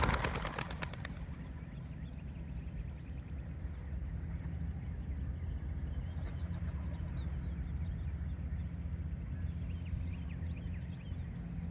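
A burst of flapping wings at the start as racing pigeons are released and take off in Tamaqua, Pennsylvania, followed by steady outdoor ambience with faint chirps and distant traffic.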